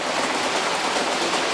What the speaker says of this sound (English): This is my boyhood train.